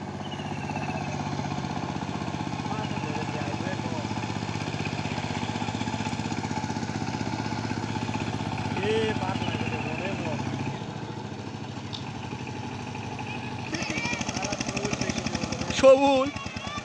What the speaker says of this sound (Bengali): এটা হচ্ছে সাইফিং 12 হর্স পাওয়ার ইঞ্জিন, নতুন পাওয়ার টিলার